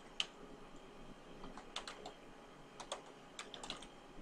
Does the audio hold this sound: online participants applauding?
no